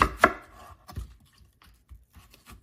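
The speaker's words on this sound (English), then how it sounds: "Cut the apple lengthwise." Knife cutting lengthwise through an apple on a board, a sharp crunchy chop near the start followed by a few softer cutting and handling sounds, close and alone.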